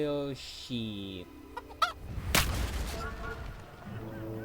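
Chicken clucking in the medieval video game Kingdom Come Deliverance, several short squawks and harmonic calls around a loud thud of trebuchet fire, with a voice-like call in between.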